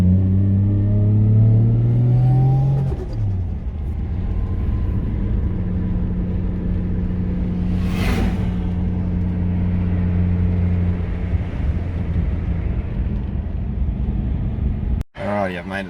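A car driving along a road, its steady engine and road rumble continuous throughout, with a rising rev near the start and a brief whoosh midway, fairly loud and close inside the cabin.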